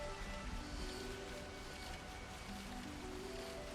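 Steady, faint rainfall in the video game Xenoblade Chronicles 3, near Hermit's Inlet, a soft continuous wash of drops with no other sounds on top.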